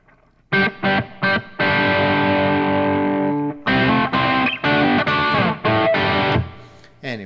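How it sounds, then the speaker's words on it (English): Heavily distorted electric guitar chords: a few short stabs, one long ringing chord left to sustain, then another run of choppy strums, loud and close with no voices. "It's time to tune my guitar."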